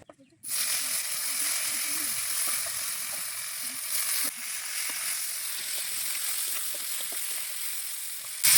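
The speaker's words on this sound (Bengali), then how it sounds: "ওই একই তেলের মধ্যে দিয়ে দেবো ফুলকপি," Cauliflower dropped into hot oil for a Bengali egg khichuri: after a brief quiet start, a sudden loud steady sizzle and crackle that holds close and constant, with a few faint clicks.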